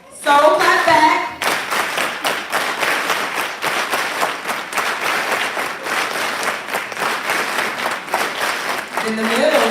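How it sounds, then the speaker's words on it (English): Crowd soul clapping at a Kwanzaa performance, dense and steady handclaps running throughout after a voice calls out at the start, with another voice rising at the end. "Soul clap back."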